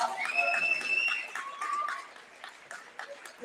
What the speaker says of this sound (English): If we could have a round of applause for them